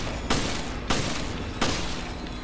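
Three heavy gunshots spaced a little over half a second apart, each a loud close blast with a short decaying tail over steady background noise, from the video game Resident Evil Revelations.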